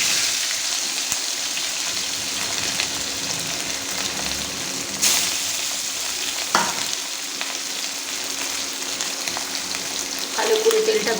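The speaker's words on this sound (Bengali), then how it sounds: "এবার আমি একটা একটা করে এই তেলে আমি মাছগুলোকে ফ্রাই করে নেব।" Fish pieces fried one at a time in hot oil, with potatoes already fried beforehand, for a Bengali rui fish curry: a steady, close hiss of sizzling oil throughout, with brief clatters and a louder crackle near the end.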